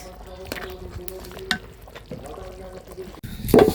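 Meat braises in a kadai (wok) with yogurt and tomato sauce, giving soft sizzling with intermittent scraping and clinking stirs. A louder clatter comes near the end, and a voice speaks quietly at times.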